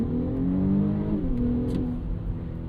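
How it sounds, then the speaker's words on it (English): Audi SQ5 turbo V6 SUV in dynamic mode with its 7-speed gearbox, accelerating hard. The engine note climbs steadily, then dips briefly at a quick paddle-shifted gear change before rising again, loud and close, with no talking. "You can take manual control by grabbing one of the paddles, and it absolutely fires off gear changes"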